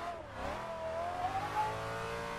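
A turbocharged Nissan 350Z engine in a virtual drift racing game holds a steady, rising drone as it revs up, fairly close and continuous over a couple of seconds with no talking.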